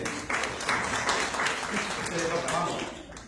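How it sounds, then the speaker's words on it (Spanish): Applause from students in a class, uneven bursts of clapping that swell and fade, mixed with voices talking over it. "Pueden aplaudir, excelente."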